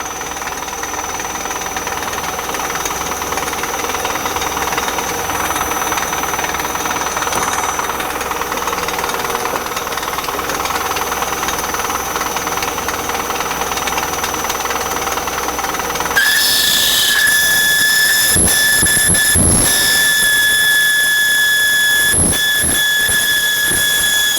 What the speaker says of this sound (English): I'm going to go back to the boring bar I was using in the beginning, because this has a much bigger pitch where it'll hit the inside without scraping the side of it